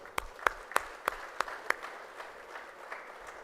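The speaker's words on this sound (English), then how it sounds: "a big round of applause for all of us" A few scattered handclaps from a seminar audience, about six sharp claps at a steady pace, then fading into soft, sparse patter; quiet and somewhat distant.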